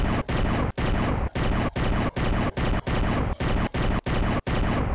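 Rapid bursts of video-game gunfire from Down Below, roughly a dozen loud, dense shots repeating at a steady rhythm with brief gaps between them, alone without talk.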